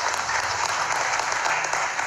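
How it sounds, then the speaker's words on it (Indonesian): Lively applause from a large crowd at an Indonesian political event as party chairmen are introduced for a vice-presidential candidate announcement. Dense, steady clapping fills the whole stretch, loud and close, with no voices over it. "Tepuk tangan yang meriah."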